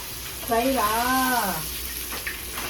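Fish fries in a pan with a steady, even sizzling hiss that carries on throughout, while a voice briefly speaks over it.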